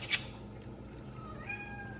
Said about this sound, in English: That's my cat Oreo